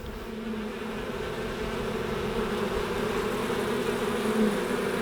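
A honeybee swarm of about 20,000 bees hums steadily while being hived outdoors, a dense continuous drone that stays even and moderately loud, with no voices over it.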